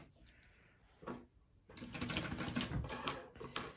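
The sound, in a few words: sewing machine basting a zipper on a bag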